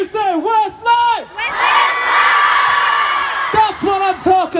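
A concert crowd in Semarang, Indonesia shouts a band's name in a loud, sustained roar with whoops, set between a singer's calls into the microphone.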